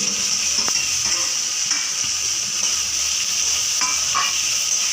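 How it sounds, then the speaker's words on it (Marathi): Roasted tomatoes go into a hot frying pan of oil for a sour, spicy green tomato bhaji, a steady loud sizzle with a few soft stirring clicks throughout. "त्यामध्ये मी आता हे भाजलेले टोमॅटो आहे ते मी त्याच्यामध्ये घालून घेणार आहे"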